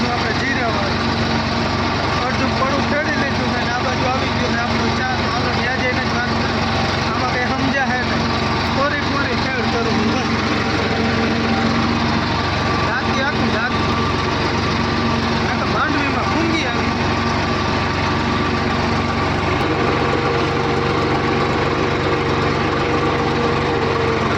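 A loud, steady engine drone runs throughout, low and rumbling like a tractor idling nearby, with voices talking faintly underneath.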